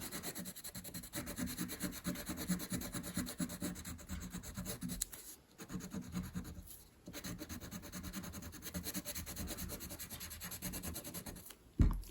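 Crayon coloring on paper, a continuous close scratchy rubbing in quick strokes, faint and steady with a couple of brief pauses, no talk.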